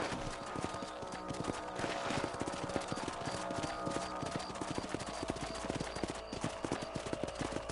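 Horses trot across a ranch property under riders, a steady busy clip-clop of hooves mixed with a brief whinny, close and continuous with faint talk in the background.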